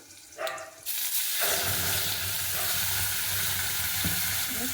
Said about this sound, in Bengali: এই মশলাটা করতে থাকবো যতক্ষণ না তেল ছাড়বে